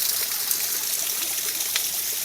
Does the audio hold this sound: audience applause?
no